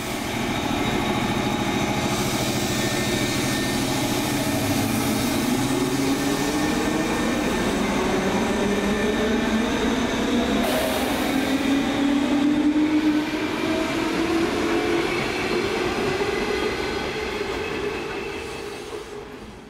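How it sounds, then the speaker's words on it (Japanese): A red EF510 electric locomotive hauling a freight train approaches a freight terminal station, its rolling rumble and wheel noise swelling steadily louder as it nears and passes, then fading slightly, with no talking. "赤い電気機関車が近づいてきました"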